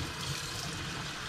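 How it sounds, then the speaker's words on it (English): Running water rinses cured pork bellies, producing a steady, moderately quiet splashing hiss with no break and no voices. "So we're just rinsing that off just to get all that stuff off there."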